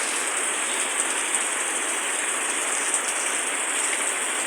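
Steady rain falls during Ramadan near a garden of eggplant plants and trees, a dense, even hiss of drops on surfaces that holds at a constant level throughout with no voices.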